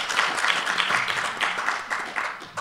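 Applause from the audience at a book talk with the authors Cesare Mattina and Nicolas Maisetti, a dense, steady patter of many hands clapping that carries on throughout at moderate loudness with no talk over it.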